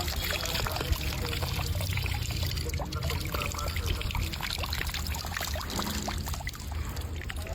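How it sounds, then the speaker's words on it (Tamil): Water scooped from a muddy pool and poured out, a continuous splashing trickle running steadily and fairly close throughout, with a faint voice in the background. "ஏதோ ஒரு சேத்துல இருந்து தண்ணி எடுக்கிறான்"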